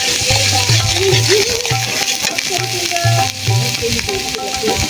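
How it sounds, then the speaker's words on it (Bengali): Beef tripe with salt, coriander powder, chili powder and turmeric sizzles loudly in a pan while a utensil scrapes through it in quick, rhythmic stirring strokes close up. "এবার আমি সুন্দর মতো নেড়ে নেব।"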